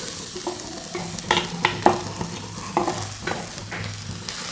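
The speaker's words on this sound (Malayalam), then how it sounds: "നല്ലതുപോലെ ഒന്ന് മിക്സ് ചെയ്തെടുക്കാം" Young jackfruit being stirred in a frying pan for thoran, a spoon scraping and tossing it through hot oil with a steady sizzle, several distinct scrapes and clacks standing out at close range, no talking.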